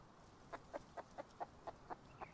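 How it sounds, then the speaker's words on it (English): A chicken in the Rust video game clucks in a quick, even series of about eight short calls, faint and somewhat distant, with no voices. "Oh, there's a chicken outside."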